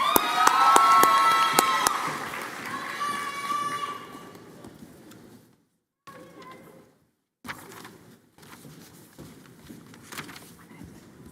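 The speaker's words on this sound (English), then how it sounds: "they cheer for each other as they walk across the stage" A graduation ceremony crowd cheers and shouts for graduates crossing the stage. The loud, mixed cheering fades over several seconds into quieter murmuring with a few scattered bumps.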